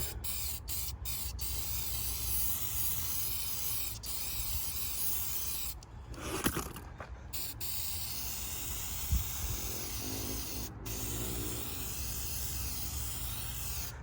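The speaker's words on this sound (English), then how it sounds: "so now we're gonna copper spray the gaskets." Steady copper gasket spray hisses close by onto gaskets during an LTZ 400 big bore kit installation, with a few brief pauses and small clicks of the can.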